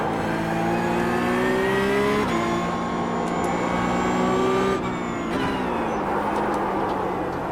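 A Porsche GT3 Cup race car in iRacing screams at high revs with sharp upshifts and downshifts, its engine loud and close and heard alone.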